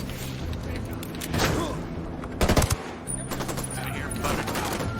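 Sniper gunfire in Ghost Recon Wildlands: a loud sharp crack stands out against steady battle ambience and background combat noise, with a couple of smaller bursts around it.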